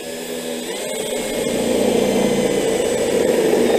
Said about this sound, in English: now we've got to drill a hole for these wires here to go into the switch assembly